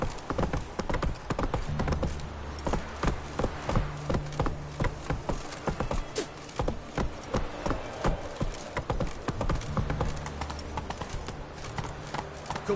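Steady hoofbeats of Roach, the horse in The Witcher 3, galloping in a rhythmic clip-clop over continuous in-game ambience and music.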